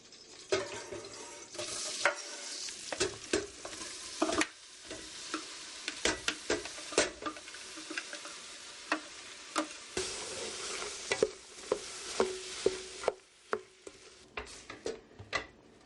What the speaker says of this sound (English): now we're just going to saute the onions and the mushrooms in some butter.